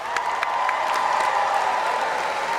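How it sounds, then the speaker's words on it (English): A crowd at a Bernie Sanders rally in Charleston, South Carolina, gives sustained applause, a dense, steady clapping with a few cheers mixed in. "I want to ask you all to give yourselves a round of applause for being here tonight"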